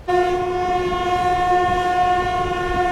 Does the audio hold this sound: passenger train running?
yes